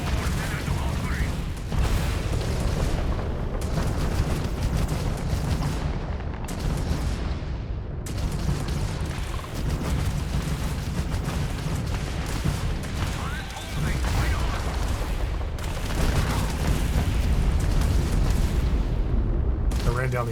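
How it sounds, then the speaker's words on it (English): Hostile Varun open fire in the Starfield video game: sustained heavy booming and rumbling gunfire with explosive bursts, loud and continuous throughout, while someone talks over the combat. "We're taking fire."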